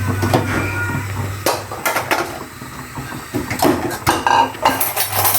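Freshly cooked rice being scooped out of a pot with a ladle: scattered metallic clinks and scrapes against the pot, irregular and fairly close, with no talking.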